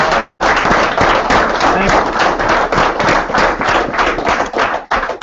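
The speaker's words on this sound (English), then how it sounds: "You have to give me a nice round of applause." An audience at a retirement financial education seminar gives a dense, sustained round of applause that fills the room, with a speaker's voice heard briefly over it and a short break near the start.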